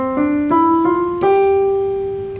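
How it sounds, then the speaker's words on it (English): Sustained keyboard notes step upward from C one after another, each new pitch struck cleanly and ringing, a slow even five-finger scale with no voices. "here's a keyboard exercise using all five fingers"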